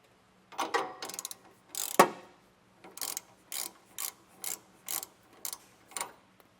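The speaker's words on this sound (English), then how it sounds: "The front bolt's bigger than the rear one, so we'll get those off next, and then we can drop our sway bar." A hand ratchet clicks in quick, steady strokes while bolts are loosened on a sway bar bracket under a 2019 Ford E-Series van, with a sharp metallic knock early on and then evenly spaced bursts of ratcheting.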